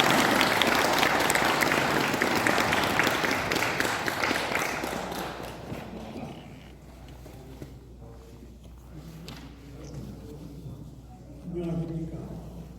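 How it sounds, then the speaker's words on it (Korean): Loud audience applause at a book event that fades out over several seconds, leaving a quiet room with faint voices and movement. "네, 다시 한번 큰 박수 부탁드립니다."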